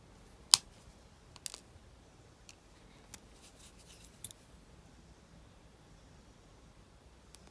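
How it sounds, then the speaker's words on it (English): Wire pieces for a wire wrap pendant are snipped shorter with cutters, giving a few sharp, isolated clicks spread over several seconds against a quiet background. "I'm going to cut them off a little bit shorter."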